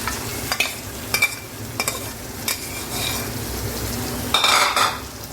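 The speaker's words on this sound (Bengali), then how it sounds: "ভালোভাবে মিক্স করে কষিয়ে নিচ্ছি।" Beef tripe being stirred and fried in a pan, a utensil scraping and clattering against the metal in repeated strokes over a steady low sizzle, with a louder burst of frying near the end.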